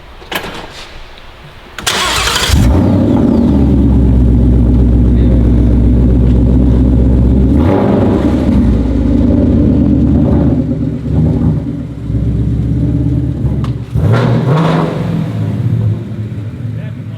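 A 2021 Mustang GT V8 with an X-pipe exhaust starts up with a loud bark, then settles into a deep, heavy rumble that swells with a couple of revs, close by, with excited voices over it.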